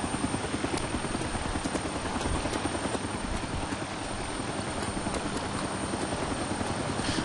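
A helicopter in the video game Arma II runs continuously with a dense, steady rotor chop and engine roar, loud and close throughout with no talking.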